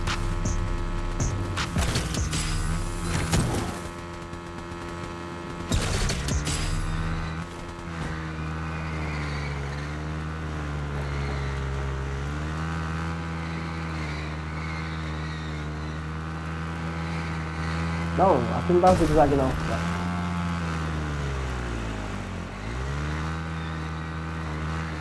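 A motorcycle ridden in Fortnite drones with a steady, humming engine tone that rises and dips in pitch as it accelerates and slows, with a short spoken remark and a few brief louder bursts over it.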